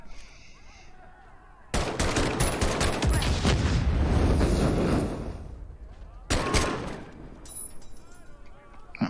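M1 Garand rifle fire in the WWII shooter Medal of Honor: Above and Beyond, a dense burst of loud sharp shots with echoing battle noise, then a quieter stretch and a second volley.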